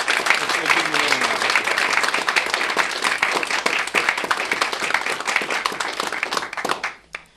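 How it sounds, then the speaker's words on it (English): A large audience at an annual community access television meeting breaks into a sustained round of applause, dense and steady for about seven seconds with scattered cheers and voices mixed in, before it tapers off abruptly at the end. "Give yourselves a round of applause."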